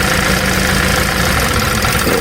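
A car engine idles roughly with cylinder 2 disconnected and the engine close to stalling, giving a loud, continuous uneven rumble with a shaky, knocking pulse and no voices.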